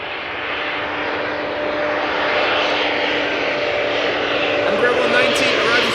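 An Embraer 190 jet airliner arriving at Amsterdam Schiphol Airport roars loudly and steadily up close, building slightly over a few seconds, with voices talking beneath it.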